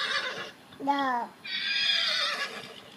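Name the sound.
child imitating a horse neighing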